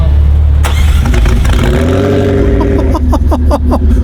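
A car engine fires up and revs hard, a loud mid-range roar rising and surging with repeated throttle blips toward the end, close by and with no talk over it.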